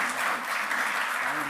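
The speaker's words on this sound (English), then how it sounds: "Let us appreciate our sponsors with a big round of applause" Broad, steady applause from an audience at a professional career-preparation session, a dense sustained clapping that fills the whole moment, honoring the event's sponsors.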